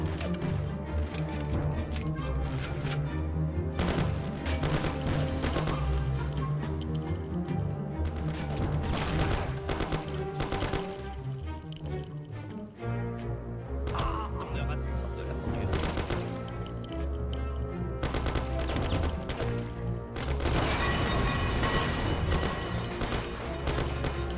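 Thompson submachine gun fire in the video game Mafia, dense bursts of rapid automatic shots and clattering impacts over a loud game soundscape, with short pauses between bursts.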